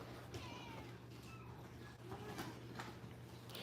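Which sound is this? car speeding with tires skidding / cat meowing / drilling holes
cat meowing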